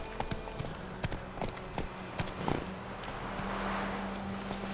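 Roach the horse galloping in The Witcher 3, a quick run of clip-clop hoofbeats on the ground, moderately near, with a soft wind-like wash rising toward the end.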